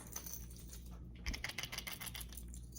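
A Rapala crankbait fishing lure is shaken, giving a faint, quick chatter of small rattling clicks in a short cluster midway through, close and quiet against a steady hum.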